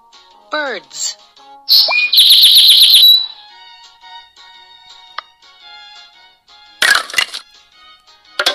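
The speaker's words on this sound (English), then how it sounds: "Birds." In a kids' animal puzzle app, bright bird chirps and a rapid trilling warble play in short bursts between brief pops and clicks, alternating with quiet gaps.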